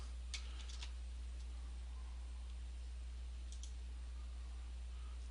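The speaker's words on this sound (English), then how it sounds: "And I'm going to go ahead and type" A few brief, quiet keystroke clicks on a computer keyboard in an office, in two short clusters over a steady low electrical hum, with no talking.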